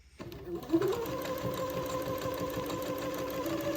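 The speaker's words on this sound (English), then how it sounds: "okay, and begin to sew, take my pins out as I come to them" Sewing machine stitching a hem to lengthen a dress, starting up and then running steadily with a continuous fast mechanical whir and a rhythmic needle chatter, close and moderately quiet.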